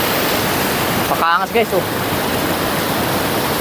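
A waterfall and river in Mauban, Quezon rush loudly and continuously as broadband white-water roar, with a man's short remark cutting briefly through the steady torrent.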